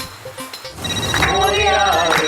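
A telephone rings with a tonal electronic ringtone, loud and close, sounding under a busy mix of voices and background noise.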